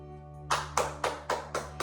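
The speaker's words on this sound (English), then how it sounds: "Give yourself a nice round of applause" Hands clap in a slow, even rhythm at the close of a family yoga session, about six distinct claps, near and fairly loud, with a steady low hum beneath.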